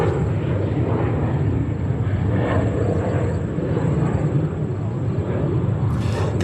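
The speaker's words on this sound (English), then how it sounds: "That's American Airlines on a 737. Could be an 800 or a MAX 8" An American Airlines Boeing 737 departs JFK Airport, a loud, broad roaring rumble that holds steady throughout, with a faint high whine over it.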